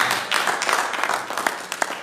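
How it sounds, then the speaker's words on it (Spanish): A church congregation applauds during an evening service, a brief burst of scattered clapping at moderate distance. "Vamos a darle un aplauso al Señor en esta noche"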